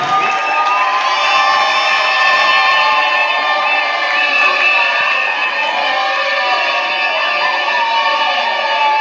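Audience at a certificate-awarding ceremony for literacy learners in a community hall, loud continuous crowd cheering with high excited voices and children shouting, a steady roar throughout with little sign of clapping.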